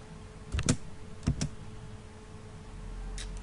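A computer keyboard in a quiet room, a few soft key taps in two quick clusters followed by a faint click near the end, with low steady background hum and no talking.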